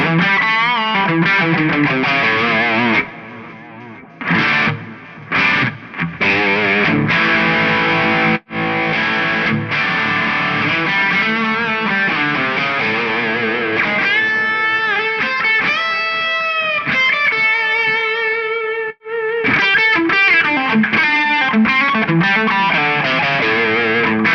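Heavily processed electric guitar through an Eventide H90 effects pedal, playing chords and sustained notes, thick with distortion, echoing delay and reverb, loud with a few brief gaps.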